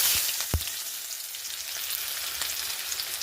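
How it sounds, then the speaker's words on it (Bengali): Onions sizzle loudly in hot oil as a tempering for masoor dal with bottle gourd, a steady close-up hiss with a couple of sharp pops and no talking. "পেঁয়াজ ফোড়ন দেবো, মুসুরির ডাল তো, লাউ দিয়ে মুসুরির ডাল।"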